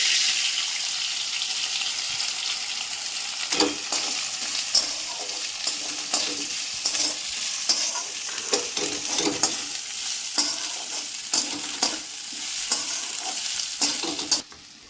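Grated coconut fries in a pan under a continuous bright sizzle, while a spatula stirs and scrapes it in irregular strokes throughout.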